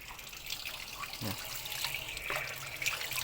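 Water poured onto banana plants in hot, dry weather gives a continuous gentle splashing trickle with a few louder gurgles, close by and without speech.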